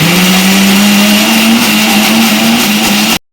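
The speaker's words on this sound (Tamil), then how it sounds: "இப்போ இது முதல்ல குறப்பாக அரைச்சிட்டு இந்த பட்டாணியை கொஞ்சம் கொஞ்சமாக போட்டு அரைச்சிக்கலாம்" Mixer grinder blending multigrain dosa batter, a loud, close, steady motor whir with a constant hum that runs unbroken for about three seconds before cutting off abruptly.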